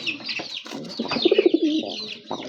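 A male pigeon coos up close, giving a quick run of throaty, pulsing coo notes among soft rustles and wing shuffles.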